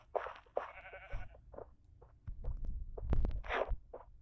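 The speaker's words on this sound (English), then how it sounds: "Hey, sheep. Come here." Several Minecraft sheep bleats ring out one after another, some long and wavering, some short, with thumping low rumbles between them.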